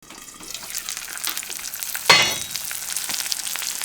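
Eggs frying in a hot pan, a steady broadband sizzle and crackle throughout, with a brief louder burst of spitting near the middle, no voices.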